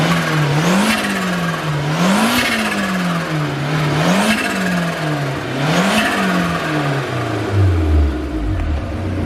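An Italian car engine revs repeatedly, rising and falling in pitch about every two seconds, loud and close, with a final drop at the end.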